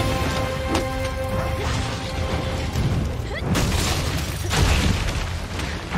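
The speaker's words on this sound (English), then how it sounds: "Big explosion." A large in-game explosion from Monster Hunter Rise Sunbreak during a fight with a fire-type Almudron, heavy crashing booms and bursts that swell and roll on over several seconds, loud and near.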